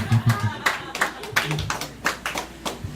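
A live comedy-show audience claps a steady beat, sharp and fairly close, while voices talk over the rhythm.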